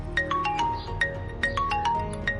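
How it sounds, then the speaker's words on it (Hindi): A mobile phone ringtone plays in a Pakistani drama scene, a bright repeating melodic pattern of short electronic tones cycling about twice, clear and close with no talk. "ये तो भाई का फोन है"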